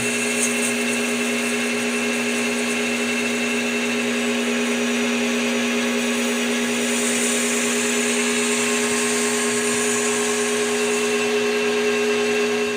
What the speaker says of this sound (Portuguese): O último passe, quando chegar lá no final, eu já venho faceando o fundo para dar o acabamento.